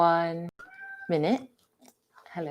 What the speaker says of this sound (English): That's my cat, not my child